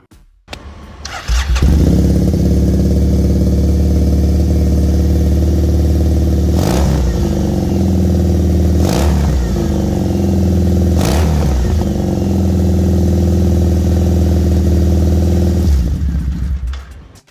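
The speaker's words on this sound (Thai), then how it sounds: "ท่อโหดๆ เลยนะครับ คันนี้เป็นท่อ full system นะครับ" A 2016 Triumph Bonneville T100 Black with a full-system exhaust starts up close by, then idles loud and steady while three sharp throttle blips rise out of the rumble before the engine shuts off.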